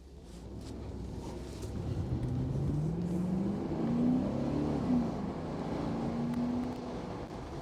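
A Mercedes R129 500SL drives with its engine humming steadily, rising and falling in pitch as it revs under load, moderately close and continuous with no one talking.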